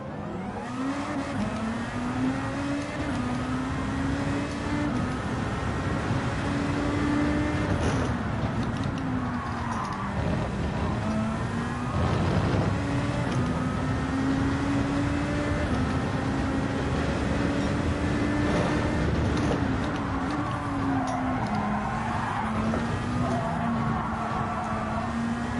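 A Nissan Nismo Gr.2 race car in Gran Turismo 7 sprint racing, its engine droning steadily with pitch rising and falling through gear changes, tire skids layered over the continuous loud run.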